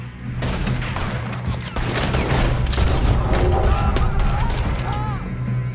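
Rapid volleys of gunfire in the video game Red Dead Redemption 2 crackle in sharp, repeated bursts, loud and dense, while a player talks over the shooting.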